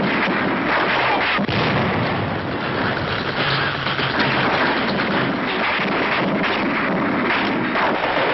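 Tank cannon fire hitting a German tank during the Allied crossing of the Rhine in World War II, heard as a dense, continuous roar of heavy gunfire and explosions, loud and sustained throughout with no talk.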